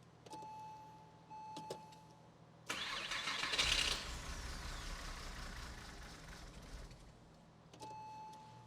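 Porsche Boxster engine after an engine-out refresh cranks and catches with a loud, close burst, then idles roughly and unevenly for several seconds before settling; brief whirring clicks come before and after.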